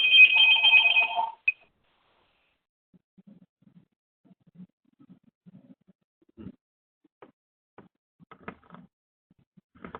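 A telephone rings out loudly in a meeting with an electronic trilling burst for just over a second, then stops. Faint, scattered shuffles and small noises follow in near silence.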